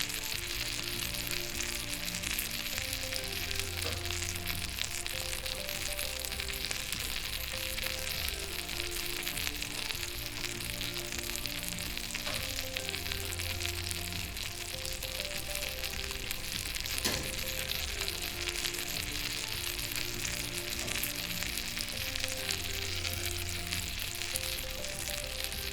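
Fish kebabs frying in hot oil, East African style, give off a loud, steady sizzle and crackle that runs unbroken throughout, with a few sharper pops here and there and no voices.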